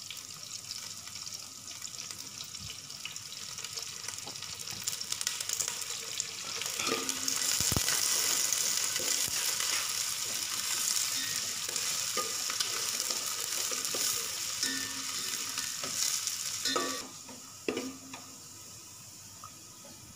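Shallots and curry leaves fry in a pan for a mackerel sardine curry, giving a steady close sizzle that swells louder as ingredients go in, with occasional stirring clatter and utensil knocks.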